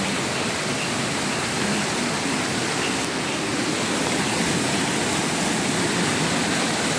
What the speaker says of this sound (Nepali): हिँड्ने बाटोमा खोला छ